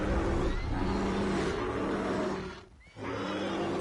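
A horse in Red Dead Redemption 2 whinnies loudly and close, a long strained neigh that breaks off briefly near the end before resuming, with no talk over it.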